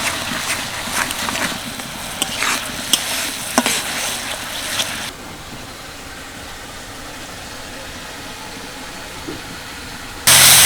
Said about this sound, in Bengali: মশলাটাকে এবার ভালো করে কষিয়ে নেব